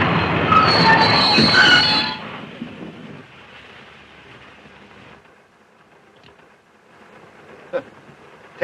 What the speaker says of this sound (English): For heaven's sake, stop this train.